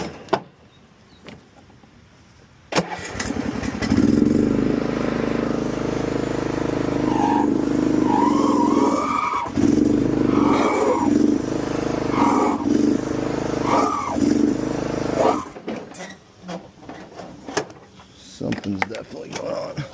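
An old $100 riding mower engine runs with its PTO engaged, a loud, steady, labouring drone that starts abruptly and then surges and dips unevenly before cutting back, close by, with someone talking over it.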